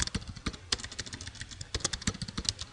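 Someone types C++ code on a computer keyboard, a quick irregular stream of crisp key clicks with a few heavier strokes, close and clear with no talking.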